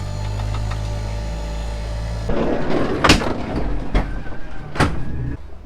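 A New Holland bucket loader tractor throwing fault codes runs with a steady low diesel idle, then a door opens and several sharp knocks and clatters punctuate the engine nearby.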